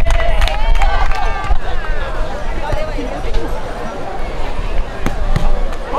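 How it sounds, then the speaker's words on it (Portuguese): Spectators at a beach volleyball 4x4 championship final create a continuous crowd hubbub of overlapping voices, shouts and chatter, fairly close and steady throughout. "Torcida."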